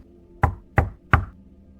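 Another set of three slow, deliberate knocks lands at an even pace, close and solid, with short booming tails and quiet between them.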